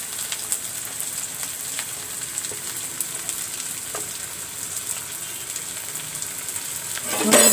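Prawns fry in hot oil for a home-style Bengali prawn dish, giving a steady close sizzle with scattered crackles and pops that swell louder at the very end.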